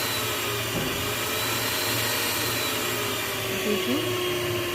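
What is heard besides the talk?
electric kitchen mixer running at high speed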